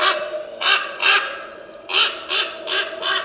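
A Halloween animatronic raven decoration caws loudly and close by, giving about six harsh, nasal bursts in an uneven rhythm with short gaps between them.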